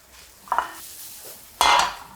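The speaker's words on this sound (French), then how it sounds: "On va faire suer les échalotes dans un premier temps." Chopped shallots sweating in oil in a frying pan, heard as a quiet, steady low sizzle punctuated by two brief scraping stirs of a utensil against the pan.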